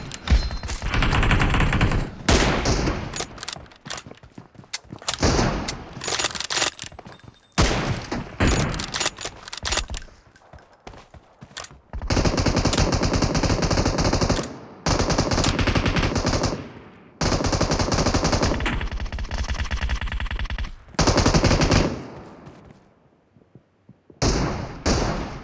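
Sniper and assault-rifle fire in PUBG Mobile rattles in rapid automatic bursts and single loud cracks, coming in repeated dense volleys with short gaps of quiet between them.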